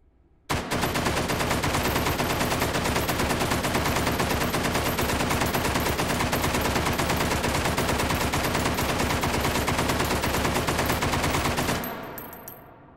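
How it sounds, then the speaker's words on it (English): A light machine gun in the VR game Hot Dogs, Horseshoes & Hand Grenades fires one long, steady, rapid burst of about eleven seconds, loud and close, then cuts off and leaves a fading echo. "that's pretty accurate for a light machine gun"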